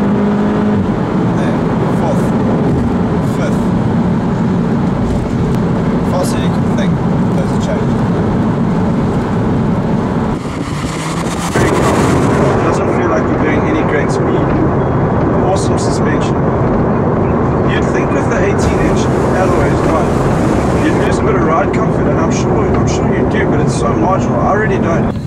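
An Audi TT engine roars continuously at close range, revving up and surging as it accelerates, loud and sustained throughout.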